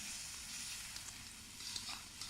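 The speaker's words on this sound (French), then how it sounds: "on va la laisser buller. Vous voyez, ça mijote." Cream bubbles and simmers in a saucepan over an outdoor campfire, a faint steady sizzle with small pops and crackles and no voices.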